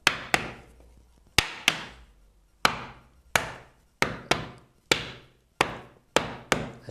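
A hammer strikes into wood, landing about a dozen sharp, close, loud thwacks at an irregular, steady pace, each ringing briefly before the next blow, with no talking.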